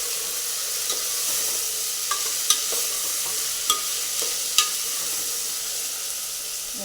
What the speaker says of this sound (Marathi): फुलगोबी, बटाटा हे टाकून घ्यायचं आणि तेलामध्ये त्याला फ्राय होऊ द्यायचं।